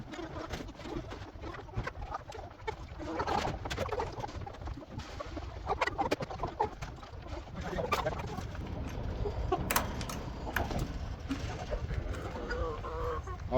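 Chickens cluck inside a coop in a scattered, continuous flock chatter with occasional sharper calls, moderately close amid rustling movement.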